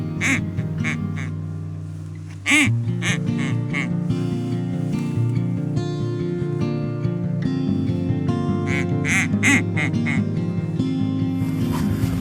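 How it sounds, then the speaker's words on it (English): Ducks quacking repeatedly and taking flight on the Yukon River, over a steady low engine-like drone, loud bursts of calls scattered across the whole stretch. "did see ducks, did scare ducks, but they took off away from me"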